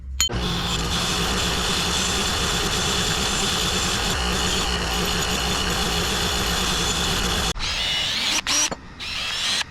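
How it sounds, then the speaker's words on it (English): A bench-mounted wire wheel runs steadily as a Ford Expedition body mount part is cleaned against it, a loud continuous whirring grind that stops abruptly near the end, followed by a few brief clanks. "Now I'm going to go clean this up on the wire wheel."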